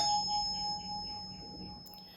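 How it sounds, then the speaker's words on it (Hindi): A struck bell leaves a steady ringing tone that sustains and slowly fades, with a faint metallic clang near the end. "घंटी तो बजनी ही है।"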